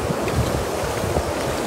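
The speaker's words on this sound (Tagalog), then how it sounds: "Parang malakas yung hangin" Strong wind buffets the microphone at sea during cast net fishing, a steady broadband rush with low gusty thumps and a surf-like wash throughout, no talking.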